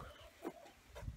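Rooster clucking inside a chicken coop on a small farm, a few short throaty calls spaced apart over low background noise, fairly faint and with no talking.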